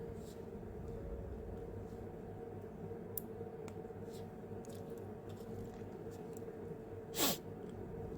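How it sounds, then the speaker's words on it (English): One quick, close sniffle cuts through near the end over a low, steady background hum. "Sniffle."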